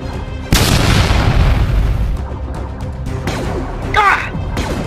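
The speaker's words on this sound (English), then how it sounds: "Grenade!" A grenade blast in a LEGO Star Wars stop-motion battle hits as a sudden loud boom, followed by crashing debris and rumble, with a short burst of laser-like zaps near the end.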